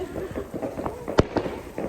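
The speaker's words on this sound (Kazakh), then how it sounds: "Dağda әлі салют атып жатыр." Fireworks set off outdoors on a snowy New Year's night in the mountains: a muffled rumble of bursts, then a sharp pop and a second crack near the end, with faint background sound around them.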